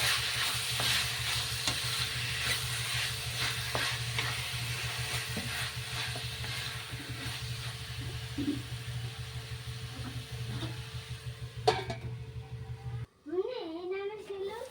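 Ridge gourd curry stirred in a pan, a continuous soft sizzle with scraping spoon strokes for most of the stretch, ending abruptly as a faint voice speaks briefly.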